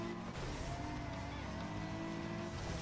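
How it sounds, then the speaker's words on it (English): Car engine roaring in the racing video game Need for Speed Underground 2, a continuous revving drone with shifting pitch under race sounds, loud and steady throughout, no talking. "Your car sounds cool"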